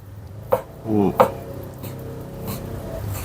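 Two sharp knife chops through cooked chicken on a cutting board, spaced about a second apart, with a brief murmur of voice between them.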